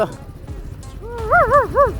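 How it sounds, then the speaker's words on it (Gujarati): A dog barks a few times in quick succession, close by, with faint background voices and clatter. "હાલો સિગ્નલ કૂતરું અહીંયા આવી ગયું છે."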